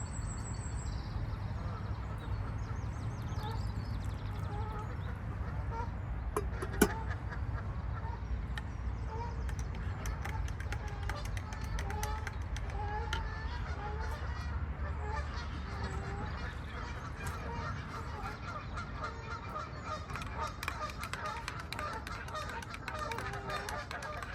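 Many geese that nest on a nearby island honking loudly and repeatedly in a noisy flock, calls overlapping continuously over a steady background rumble.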